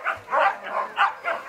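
Siberian huskies bark at a husky kennel, four or five short yelping barks in a quick uneven series, close and clear.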